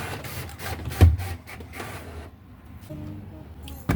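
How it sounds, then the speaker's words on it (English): A printer runs, printing labels on cardstock with mechanical whirring, a sharp clunk of the paper feed, then quieter rolling and a final click, close by. "So I'm printing it now on cardstock."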